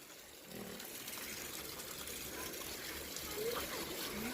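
Drinking water gushes steadily from a household tap at strong pressure, a continuous broadband rush that starts abruptly after half a second and holds at a moderate level.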